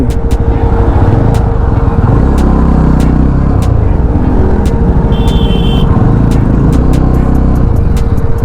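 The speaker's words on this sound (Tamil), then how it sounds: "திடீர்னு டிராஃபிக் வந்துடுச்சு." Loud, steady road traffic fills the clip: a constant engine and wind drone from up close, with a brief horn blast partway through and no talking.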